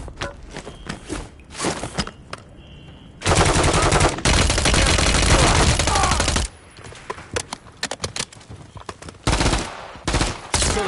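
Heavy automatic gunfire in the Call of Duty Modern Warfare 3 campaign on a high-rise mission, with long loud sustained bursts and short sporadic shots in between, close and dense.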